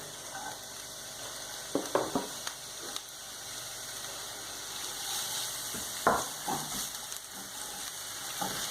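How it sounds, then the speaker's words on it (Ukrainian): Onion fries in a few spoonfuls of vegetable oil in a pan, a soft continuous sizzle with occasional louder crackles and stirring scrapes, fairly quiet and close. "і обсмажуємо цибульку"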